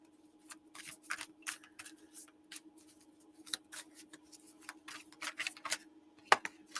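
Oracle cards being shuffled at a live reading, giving a series of quiet, crisp riffling and flicking bursts at an uneven rhythm over a faint steady hum, with no talk.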